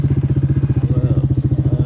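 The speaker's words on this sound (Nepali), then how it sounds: "म यसरी जाँदैछु कुन्टे बाइकमा" A small motorbike engine putters along in a fast, steady rhythm of firing pulses, loud and close, with no talk over it.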